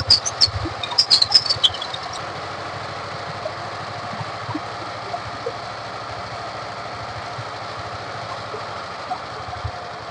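A second-hand power tiller engine idles in a steady low chugging rhythm, with a few sharp clattering knocks near the start before it settles into an even mechanical drone.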